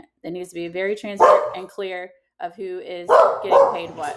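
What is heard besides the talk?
dogs barking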